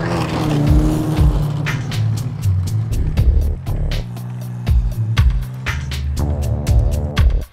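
A Scorpion tank drives past, its loud throbbing engine humming and droning while a rapid series of sharp clanks and clicks, likely from the tracks, repeats over it.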